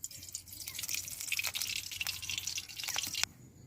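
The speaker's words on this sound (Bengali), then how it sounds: "কড়াটা গরম হয়ে গেছে, আমি দিয়ে দিচ্ছি সরষের তেল" Mustard oil poured into a hot wok, a close, fairly quiet trickling pour with light splashy spatter that stops abruptly near the end, leaving a faint background hum.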